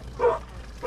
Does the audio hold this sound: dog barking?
yes